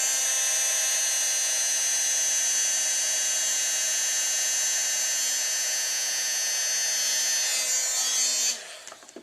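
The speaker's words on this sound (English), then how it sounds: "I'm going to heat set it." Heat tool blowing hot air to set embossing powder, a steady loud whining hum with a constant tone that runs unbroken before cutting off near the end.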